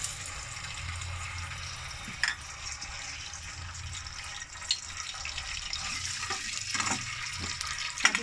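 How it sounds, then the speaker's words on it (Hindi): Whole garam masala frying in about five tablespoons of hot oil, a steady close sizzle with occasional stirring scrapes and small bursts of crackle throughout. "ऑयल में हम क्या करेंगे, अपना गरम मसाला साबुत जो है वो ऐड करेंगे"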